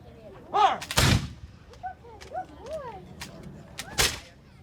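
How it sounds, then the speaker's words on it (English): Musket volleys fired by a village militia at a Fourth of July event in Fairhaven, heard as two loud, sharp blasts a few seconds apart that ring out over a quiet outdoor background with faint chirping. "Warning, muskets are being fired."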